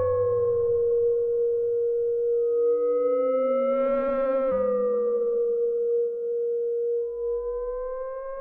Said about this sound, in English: that is just basically the Z2040 filter as an oscillator, and basically we've got some FM